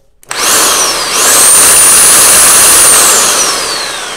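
A Bauer 1643E-B demolition hammer in drill mode starts abruptly, spins up to a loud, high steady whine for a few seconds, then slowly winds down. Close and alone.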